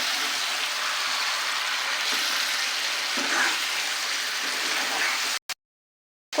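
Ginger, garlic, cumin and onion pastes frying with chicken pieces for a restaurant-style shahi chicken, a steady close sizzle with stirring that holds for about five seconds and then cuts off.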